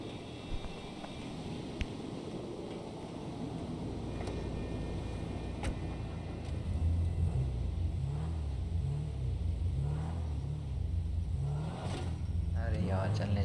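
A car in GTA V revs up and pulls away with a low rumbling engine that grows louder, and short thuds of an impact come near the end, with someone speaking over part of it.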